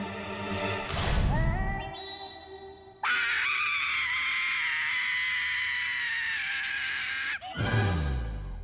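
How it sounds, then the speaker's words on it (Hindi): A long, loud, wailing scream from a person in a Baalveer Returns TV comedy scene about an injection, held for several seconds between shorter cries, with no talk over it. "ये कौन चीखा?"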